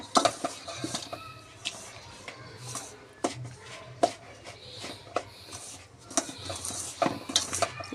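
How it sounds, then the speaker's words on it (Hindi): Naan khatai cookie dough mixed by hand in ghee in a bowl, with soft squishing and patting, scattered clicks and knocks of utensils, and a faint kitchen murmur in the background. "बिल्कुल हल्के हाथ से इसे मिक्स करो इसी घी में।"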